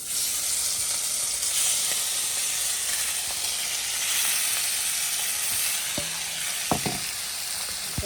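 Hot oil fries steadily with a broad, even sizzle and hiss, close and continuous, with a few knocks of a utensil against the pan near the end and no talking.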